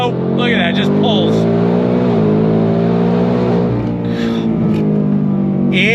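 Hennessey H850 Ford Mustang Dark Horse under throttle in third gear, a loud continuous close-up exhaust drone climbing in pitch for the whole stretch with no break.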